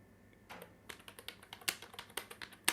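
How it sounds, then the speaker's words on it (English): Someone types text into a document on a computer keyboard. The keystrokes are close and fairly faint, irregular taps that come a bit faster toward the end, with no talk. "Now here I will type the first term exam."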